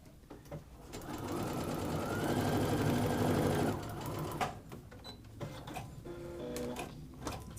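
Sewing machine stitching a paper pieced log cabin quilt block: a fast steady motor whir for a few seconds, then stops, followed by quieter handling clicks and rustles nearby.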